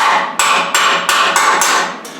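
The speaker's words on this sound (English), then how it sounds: "We're going to take a chisel and a hammer," A ball peen hammer drives a chisel to knock dross off metal, giving six sharp, loud metallic strikes at a steady, fairly quick rhythm, each ringing briefly before the next.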